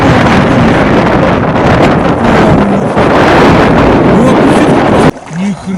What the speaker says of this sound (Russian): Такой ветер кони сдувает, мама мия